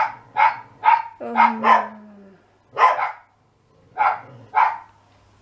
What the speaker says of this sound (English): A wee dog barked away in the distance